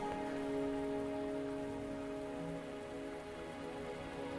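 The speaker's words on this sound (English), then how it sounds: "Are you trapped here by the rain?" Steady rain falls in the video game Wuthering Waves, a dense, even patter of drops on surfaces that continues unbroken, with a soft tonal hum of background music underneath.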